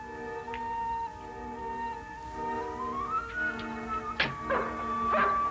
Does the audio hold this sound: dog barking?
yes